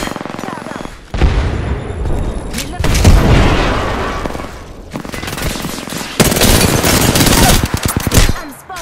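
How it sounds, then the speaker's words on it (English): Bursts of rapid automatic gunfire and heavier booming shots from an Apex Legends match, loud and close, coming in several intense volleys separated by brief lulls, with a voice speaking between them. "I'm spotted. Taking fire."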